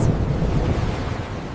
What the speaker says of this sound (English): Thunder rumbles.